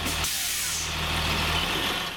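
School bus stopping at a bus stop, a loud hiss of air brakes releasing over a rumbling idling engine, steady and close for a couple of seconds.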